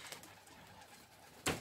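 Soft cooing of homing pigeons and faint rustling, ending with a brief burst of flapping or scraping noise.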